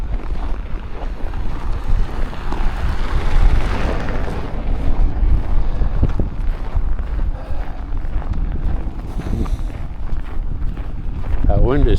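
Strong winter wind blows steadily outdoors in a cold town street, roaring and buffeting the microphone throughout with no let-up.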